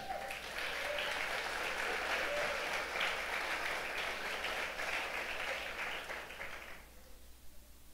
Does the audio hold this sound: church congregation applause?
yes